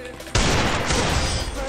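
A sudden loud burst of gunfire in a shooting video game cuts in after a moment of quiet and rumbles on with crackling echo, close and dense.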